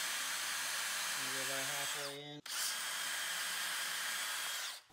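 A power drill bores a pilot hole for an aquarium fish fry rack build, a steady whining motor hum with a rising pitch, a brief stop, then continued drilling that is close and fairly loud throughout.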